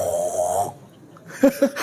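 A man imitates snoring with his voice, a drawn-out nasal snore followed after a pause by two short, loud snorting bursts, close and alone.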